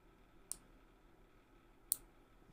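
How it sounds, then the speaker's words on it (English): Two crisp, isolated clicks of nail clippers snipping fingernails, about a second and a half apart, close and fairly quiet over faint room hum. "Clipping my nails."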